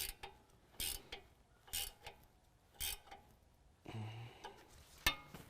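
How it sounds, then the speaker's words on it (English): Ratchet wrench tightening a 24mm nut on the drag link and pitman arm steering of a 2017 Ford F-250 Super Duty, giving short bursts of clicking strokes in a loose rhythm, close and fairly quiet. "Now we can tighten down our nut."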